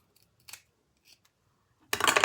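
Scissors trim a zipper on a handmade leather key fob wallet: two short, quiet snips a moment apart, then a louder rough, rustling burst at the end.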